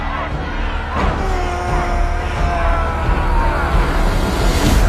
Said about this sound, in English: The crowd is starting to cheer for the Reaper.